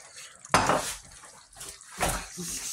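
Brandy poured into a pan of fried tomato while cooking a cheek stew: two short splashing, sizzling bursts close by, the second after a brief quieter pause.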